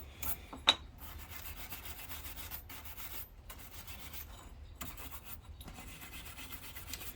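A cheap brass brush scrubs crud off an aluminum heat sink from a 2004 Astro van ignition module, giving quiet repeated rasping strokes with short pauses between them.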